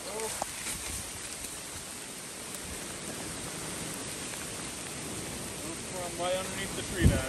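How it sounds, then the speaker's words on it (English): Strong hurricane wind gust during Hurricane Ian, a steady loud broadband roar that swells toward the end, with a voice speaking briefly over it. "That was a big gust of wind."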